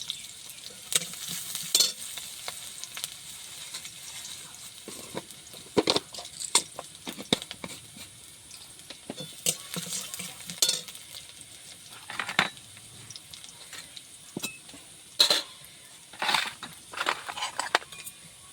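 Whole spices, cinnamon and cardamom pods sizzle in hot oil in a pan, with soft crackling, spitting pops and scattered clinks of a spoon stirring, fairly quiet and close, without talk.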